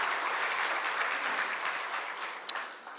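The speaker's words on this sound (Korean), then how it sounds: "우리 특주해 주신 장로님을 위해서도 박수 한번 하겠습니다." Steady applause from a church congregation at a Sunday service fills the space, even and sustained, with one sharp clap standing out near the end.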